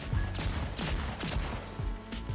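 Hand cannon fire in Destiny Rising, a rapid run of sharp, loud shots about every quarter second, close and continuous.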